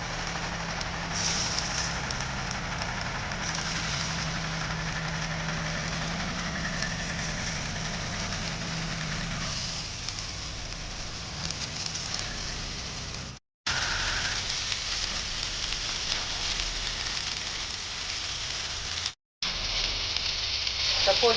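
Oysters frying in oil in a pan give off a continuous crackling sizzle that stays steady and close, with a couple of short dropouts.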